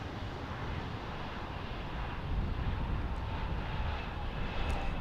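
A fixed-wing airliner in the special Honoring Those Who Serve livery at Portland airport in Oregon, its engines making a steady, broad roar that holds throughout and swells slightly toward the end, with no voices.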